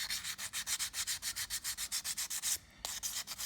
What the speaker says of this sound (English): All we do is wet our sandpaper, and we can then just keep sanding.